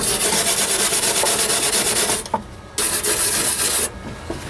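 A stiff brush scrubs flux buildup off a fresh spot weld on a Ford Ranger's steel floor pan patch; loud, fast rhythmic scratching strokes, close up, stopping briefly twice before resuming.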